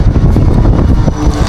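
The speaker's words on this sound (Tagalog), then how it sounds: "Mahangin ngayon." Loud wind buffets the microphone in low, rumbling gusts at a fishing spot, a continuous roar with no voices.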